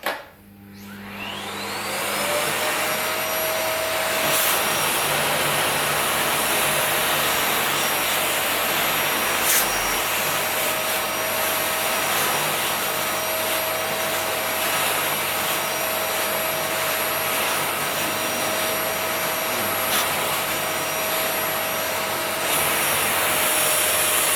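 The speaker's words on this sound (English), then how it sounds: "we're going to do is we're just going to take our vacuum and just simply vacuum this section here all up" A vacuum cleaner runs continuously close by while cleaning the AC section of a car, a steady loud whine with a faint tonal hum and occasional brief scraping bumps as the nozzle moves.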